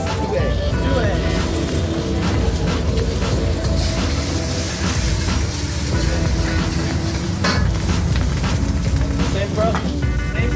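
Eggs fry in a hot wok for pad see ew in a restaurant kitchen, producing a loud, steady sizzle with the scrape of stirring, and voices talk over it.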